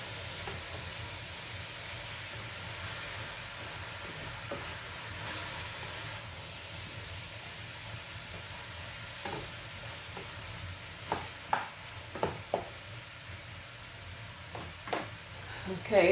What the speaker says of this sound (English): Just keep stirring, they'll start to break down.